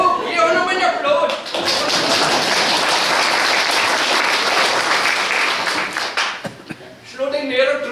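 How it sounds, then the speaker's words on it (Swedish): A revue audience applauds a volunteer called up on stage, with dense, loud clapping holding steady for several seconds. A voice talks just before it starts, and voices return as it fades. "Ge honom en applåd!"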